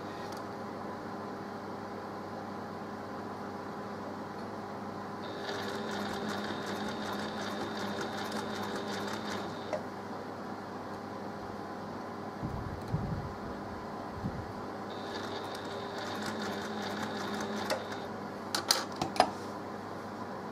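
A sewing machine stitches a mock cathedral window quilt block in two bursts of rapid needle clatter, separated by quiet pauses filled with fabric handling and small clicks.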